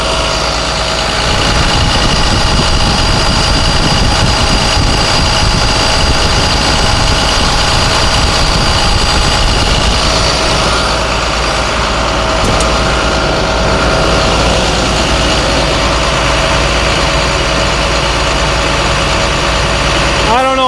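A 2011 IC RE300 13-row school bus idles nearby, its heavy engine giving a loud, constant, vibrating rumble that barely changes throughout.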